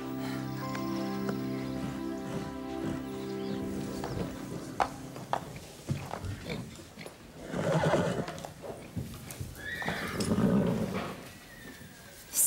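A mare gives a long, loud whinny up close, followed by hoof clip-clops, scattered knocks and softer snorting sounds.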